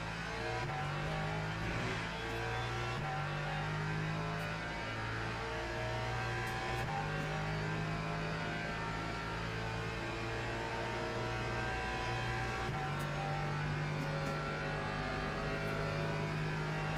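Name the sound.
hypercars racing past in video game Le Mans Ultimate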